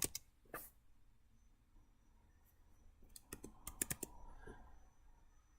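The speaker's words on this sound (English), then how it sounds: "I'm also using the Mech Vibes software from SourceForge to get some clicky sounds as I type." Clicky keystrokes come from a computer keyboard with simulated mechanical switch sounds added by software, a few isolated clicks followed by a quick burst of typing, faint and close in a quiet room.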